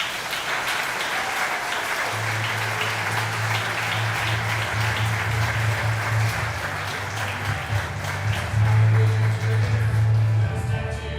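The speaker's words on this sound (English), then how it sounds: "So give them a round of applause." Audience applause for high school Hall of Fame inductees, a steady wash of clapping that fills the room for the whole stretch, with a low hum running beneath.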